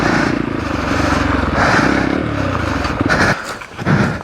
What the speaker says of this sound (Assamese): বহুত টানছেতো বাইক এইখিনিত পাথৰটোত